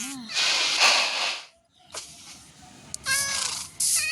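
A cat in the video game Minecraft meows repeatedly, with drawn-out, loud mewling calls separated by short silences, up close and clear.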